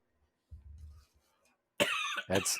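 A pair of harsh, close coughs bursts out after a quiet stretch of low rumbling, the second cough following right on the first.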